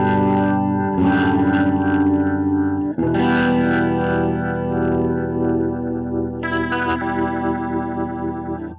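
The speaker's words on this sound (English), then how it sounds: "that little bit of extra wobble is the rotary sound" Clean electric guitar through a rotary modulation pedal on a clean amp: sustained chords that swirl and wobble with a slight gritty edge, loud and continuous, with a new chord struck partway through and no voices.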